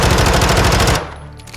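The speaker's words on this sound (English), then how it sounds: "Let me show you the recoil pattern on this quickly." Vaznev-9K submachine gun firing in Modern Warfare 2, a loud close rapid burst of about a dozen shots lasting a second, then cutting off into a short fading tail.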